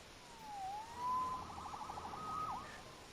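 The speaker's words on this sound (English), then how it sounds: "Saved by the siren." A faint police siren in the Spider-Man PS4 video game wails in rising and falling sweeps, with a soft pulsing warble, distant and alone against a quiet hum.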